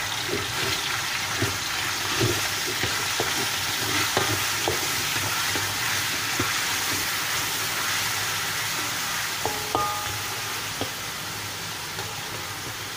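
Beef simmering in a pan for a Malay turmeric beef dish with young chillies, a steady broad sizzle and bubbling with scattered clicks and stirring knocks throughout, close and continuous.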